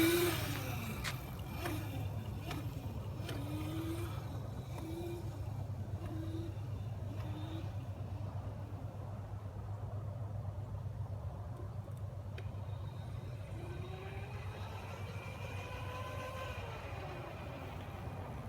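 A child's small motorcycle engine idles and buzzes steadily outdoors at Christmas, with repeated rising revs as the throttle is blipped, close and continuous throughout.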